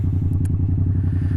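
Yamaha FZ07 motorcycle fitted with a cheap aftermarket eBay exhaust, idling or running with a steady, deep throbbing rumble, close and loud, with a couple of brief clicks on top.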